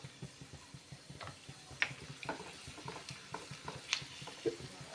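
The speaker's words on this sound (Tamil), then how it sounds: "கிஸ்மிஸ் நல்லா பபிள்ஸ் மாதிரி வந்திருக்குல்ல" Raisins fry in a pan for sweet pongal, giving a quiet, steady crackle of small pops and ticks with a few sharper clicks, with no talking over it.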